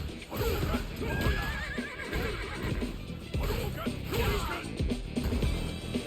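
A horse whinnies loudly in a video game, its shrill neigh rising over clattering game noise and thuds, with more whinnying following.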